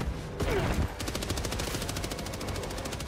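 Rapid automatic gunfire from the video game Helldivers 2 rattles in a steady, fast burst for about two seconds, loud and close, after a brief rushing blast at the start, with no talking.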